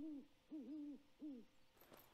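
An owl in the video game Night of the Dead gives three clear, moderately faint hoots at a steady rhythm, followed by a few soft clicks and knocks.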